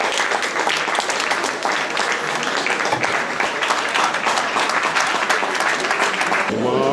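Loud, dense applause from the audience at the Wok d'Or 2019 event at the Wok Grill restaurant in Le Havre, sustained steadily for several seconds before a voice cuts in at the very end.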